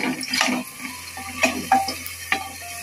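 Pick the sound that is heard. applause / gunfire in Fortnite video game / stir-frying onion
stir-frying onion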